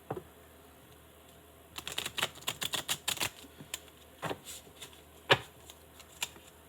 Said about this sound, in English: One more shuffle. And pull some cards.